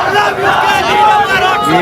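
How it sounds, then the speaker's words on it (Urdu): Crowd at a street rally outside F9 Park in Islamabad, a dense continuous roar of many voices chanting and shouting together, loud and steady throughout with no pauses. "نعرے لگائے جا رہے ہیں"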